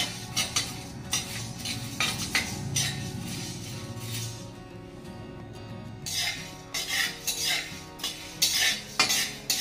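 Coriander seeds are dry-roasted in a pan and stirred continuously. Steady metallic scraping and clinking of a spoon against the pan runs close and fairly loud, with a faint crackle underneath.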